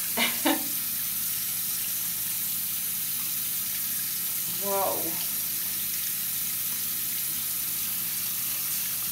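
Steady rushing hot water from a tap filling a sink, continuous and close, with a brief exclamation near the start.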